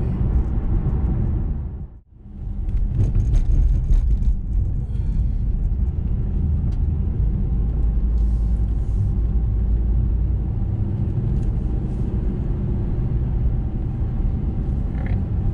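A 2017 Chevy SS gives a loud, deep, sustained engine roar with rumbling tires on pavement, dipping sharply for a moment before holding steady at full volume.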